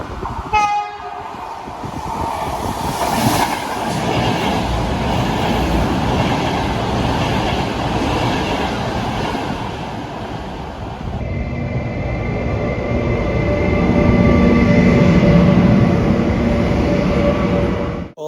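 A train rumbles loudly and steadily at Entroncamento station in Portugal, with squealing wheels and a horn-like tone near the start, continuous throughout with no talking.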